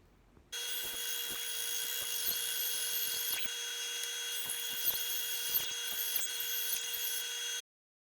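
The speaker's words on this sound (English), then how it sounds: "we'll trim that up on the bandsaw" A bandsaw runs steadily for about seven seconds while cutting a deadlift jack outline, giving a loud, continuous whine with a few small clicks and ticks. No one speaks.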